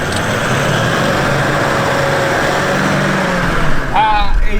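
Off-road vehicle engine running at full power with hard tyres, climbing a sand dune in the Simpson Desert in Australia: a loud, steady drone under the whole span with wind noise and a brief rising whistle near the end.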